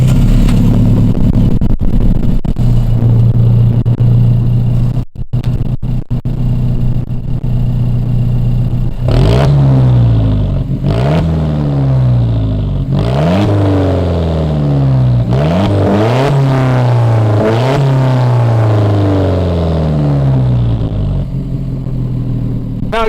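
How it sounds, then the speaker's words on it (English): A warm Alfa Romeo 4C engine cranks, fires and revs, its exhaust rising and falling in repeated loud throttle blips close by, with no talk over it. "I'm gonna start it up for you guys, and so we can hear this exhaust. It's a warm start, not a cold start"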